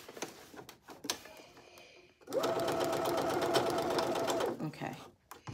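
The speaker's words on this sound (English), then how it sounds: "I am sewing up Simplicity 9745" A sewing machine stitches a bias-cut slip dress from Simplicity 9745, running steadily for about two seconds at a close, even hum, with softer handling clicks and fabric rustle before and after.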